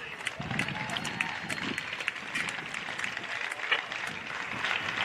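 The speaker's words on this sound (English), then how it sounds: "Please give a round of applause for a terrific contest between these two outstanding teams" Crowd applause at a football grand final for Yoogali SC and Wagga Wagga City, sustained and dense throughout, with voices talking and cheering mixed into the clapping.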